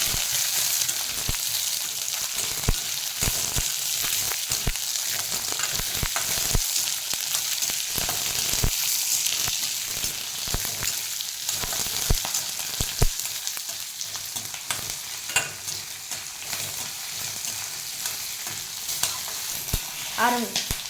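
Sliced onion and gooseberry frying in a pan for a mudavattukal thuvaiyal, with a loud, continuous sizzle and crackle broken by frequent stirring clicks and scrapes throughout.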